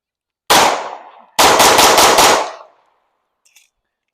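A Glock 45 pistol fires one loud shot with a ringing tail, then a fast string of about five shots in close succession, fading into a brief echo and a faint click.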